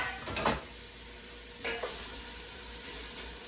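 Minced onions hit butter in a pan with two brief sizzling bursts of stirring and frying, then a soft steady crackle continuing close by, with no talk.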